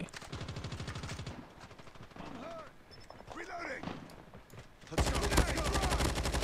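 Rapid automatic bursts of AK117 rifle fire in a shooter game, a fast rattling volley at the start and a louder sustained burst at the end, with someone talking in between.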